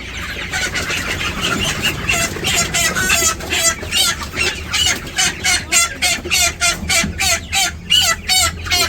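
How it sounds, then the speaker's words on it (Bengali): Chickens cluck in a rapid, regular run of loud, close calls, growing more rhythmic toward the end, with no talking. "মোরগ মুরগি দুটাই"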